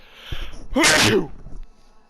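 A single sharp sneeze bursts out, loud and close, with a quick intake of breath beforehand and quiet room noise after.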